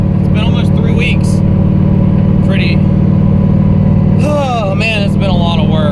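A turbocharged, nitrous-equipped, LS-swapped Mazda Miata is being driven, its engine making a loud, steady low drone throughout while a person talks over it.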